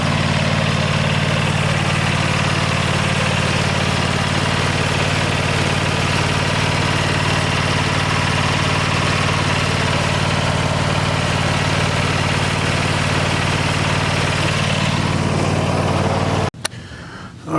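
A Troy-Bilt Mustang 42 XP twin-engine riding mower runs at a steady loud idle close by, a constant low rumbling drone that cuts off abruptly near the end.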